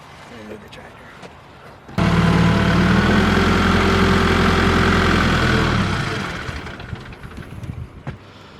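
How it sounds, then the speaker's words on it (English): A tractor engine starts abruptly and runs loud and steady close by, then revs down and fades as the tractor is moved, with light background noise before and after. "Let me move the tractor."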